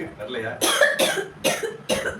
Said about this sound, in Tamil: இருமல் தான் வந்திருக்கு.